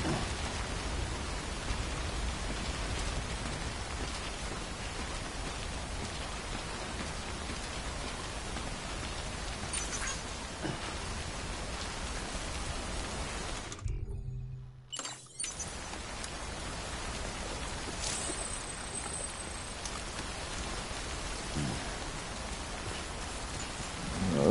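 Steady rain in the video game Death Stranding pours continuously at a moderate level, with a brief drop-out partway through before the downpour resumes.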